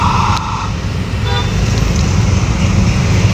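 Dense late-afternoon traffic jam on a Makassar road, heard from a motorbike: a constant loud rumble of engines, brief horn toots and faint voices.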